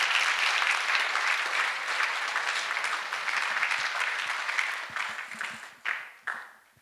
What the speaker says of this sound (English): Children of God, can we once again clap for Master Jesus?